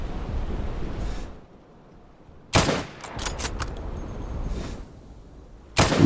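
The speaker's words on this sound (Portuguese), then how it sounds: "Pelo menos os tiros estão assustando ele" Gunfire in the World War II shooter game Day of Infamy, set in France 1944: sharp, loud shot bursts, one after a rumbling stretch and another at the very end, over a constant noisy battlefield background.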